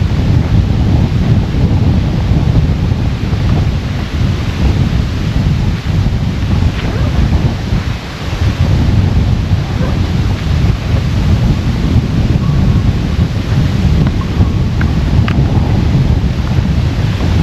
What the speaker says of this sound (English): Oh, it's windy, not breeze, it's windy.